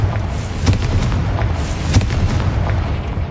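Confringo explosion spell in the video game Hogwarts Legacy, loud deep booming blasts with sharp crackling bursts on top, rumbling heavily and continuously at close range.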